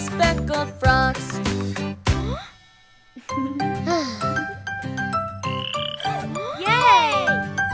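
Cartoon frogs croak in a cheerful children's nursery rhyme about speckled frogs, with bouncy croaks and chirpy sounds mixed with tinkling music and a short pause midway.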